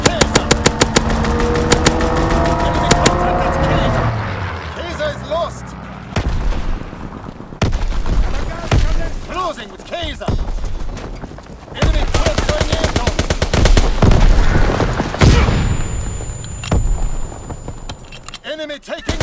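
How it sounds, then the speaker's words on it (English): A fighter plane strafes a target in Call of Duty: WWII multiplayer on the Shipment map, rapid machine-gun bursts ripping loudly with engine roar and sharp gunshots, alongside voice callouts. "Fighter pilot inbound, strafing the target."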